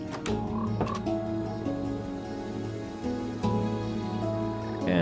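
Several frogs croak in Minecraft, layered low repeating croaks at an even rhythm with a few brighter clicks, continuous and fairly loud with no talk.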